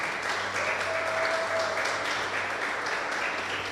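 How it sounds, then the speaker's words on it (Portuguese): Church congregation applauding together, a steady dense clapping wash that holds evenly throughout at moderate, fairly distant level, with a faint murmur of voices beneath. "Dê um aplauso ao Senhor, em nome de Jesus"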